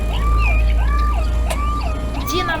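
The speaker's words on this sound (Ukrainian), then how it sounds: "враз пронизливо заребіла сирена" A two-tone siren wails loudly and steadily, rising and falling in a repeating cycle over a low rumbling engine, with no voices.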